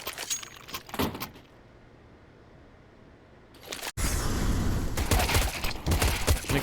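Pistol gunfire in a competitive esports shooter match, heard as sharp bursts of shots near the start, then a quiet stretch before a loud, dense run of shots and game action that fills the rest.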